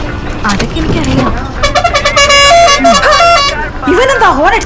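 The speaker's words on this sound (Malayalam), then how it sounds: "ഇവനെന്താ ഹോണടിച്ച് മനുഷ്യനെ കൊല്ലാൻ നോക്കേ?" A vehicle horn honks in repeated loud blasts, some sustained and some short, with people talking over and between the honks on a busy road.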